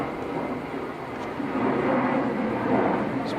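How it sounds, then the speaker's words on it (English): An airplane passes overhead outdoors as a steady, broad engine roar that swells slightly and holds at moderate loudness throughout, with no speech over it. "It's plane day all of a sudden."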